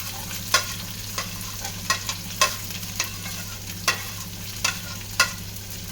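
Chopped onions, shallots and green chillies fry in a pan with a steady sizzle, punctuated by regular sharp spatula scrapes and taps every half second or so, close and clear with no talking.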